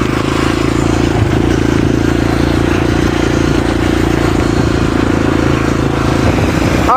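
Clutch dirt bike engine droning steadily and loudly as it revs higher before a gear shift, a continuous close engine tone with no talking.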